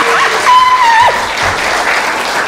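A church congregation at a revival service in Semarang breaks into sustained applause and cheering for God, a dense steady wash of clapping with a tonal voice rising briefly above it.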